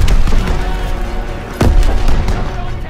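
Dense, loud World War II battle noise from Call of Duty WWII: continuous heavy gunfire and rumbling explosions, with a sharp close blast near the middle.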